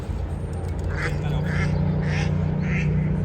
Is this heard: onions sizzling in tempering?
no